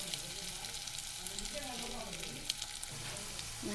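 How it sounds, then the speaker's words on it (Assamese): Egg pakoras sizzling in hot oil in a pan, a steady dense crackle and hiss filling the whole stretch with no speech over it. "মই খুব সাৱধানে ইয়াতে মই এটা এটাকৈ তেলত এনেকৈ দি দিম।"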